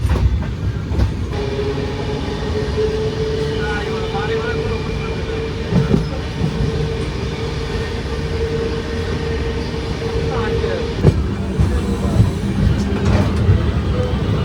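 A superfast express train rolls along the rails with a steady heavy rumble and occasional clacks and squeals, loud and continuous throughout.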